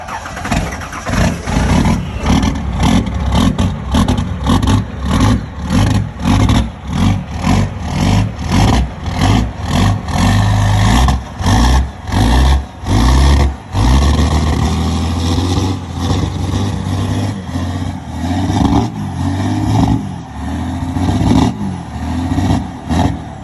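A Ford truck with a swapped Cummins diesel engine, recently rebuilt after a wreck, cranks and fires in a cold Chicago winter. It then chugs with a loud, rough, pulsing clatter and a few revs, close by.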